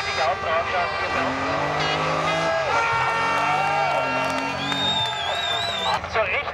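Race car in its first practice run at the Rechberg hill climb, engine roaring loudly with shifting pitch and exhaust bark, alongside crowd noise and a commentator talking over it.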